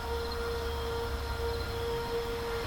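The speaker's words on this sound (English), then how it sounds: "That's a siren." A siren outside wails as a steady sustained tone, fairly faint and distant over a low rumbling background, with no talking.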